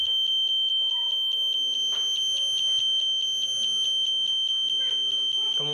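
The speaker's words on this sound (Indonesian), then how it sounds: "Jika kendaraan semakin mendekati tembok atau akan menabrak tembok, buzzer akan on dan LED akan mati." A parking sensor simulator's buzzer sounds in a rapid, steady series of high-pitched beeps that runs without a break, close and loud, over a low hum, while a voice talks underneath.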